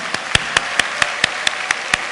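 Audience at a Christian teachers' conference clapping in slow, evenly spaced single claps, about nine sharp hits close together in a steady rhythm.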